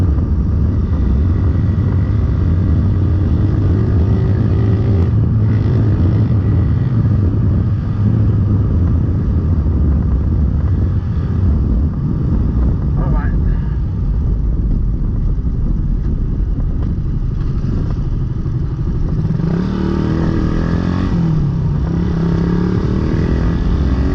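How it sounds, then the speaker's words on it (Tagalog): Suzuki Raider 150 motorcycle engine idling steadily after carburetor tuning, a continuous low rumble held close and loud throughout with slight shifts in pitch, no talking. "Okay na yung kanyang takbo, okay na rin yung kanyang carb, hindi na siya palyado, hindi na umahagok"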